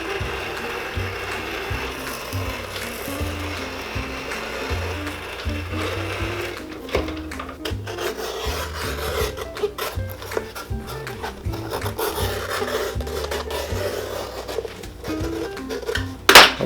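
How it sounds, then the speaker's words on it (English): A shoe-repair trimming machine with a running blade trims excess sole leather from an Allen Edmonds shoe, giving a steady, close mechanical whir with intermittent rattling and clatter throughout, and no talking. "And then this one here is a blade that runs around and trims off this"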